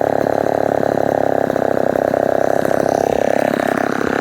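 A Homelite Super Wiz 55 chainsaw engine runs loud and close, a steady rapid two-stroke buzz that holds throughout, slightly shifting pitch near the end.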